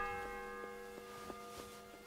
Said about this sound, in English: 9th bell. Only 3 to go.